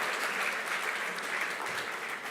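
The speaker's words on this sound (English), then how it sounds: "let's give another warm round of applause, please, to CJ Emeritus Professor Willie Mutunga" Audience applause at Hon. Martha Karua's book launch for Against The Tide: a steady, full wash of many people clapping together, continuous throughout and moderately loud.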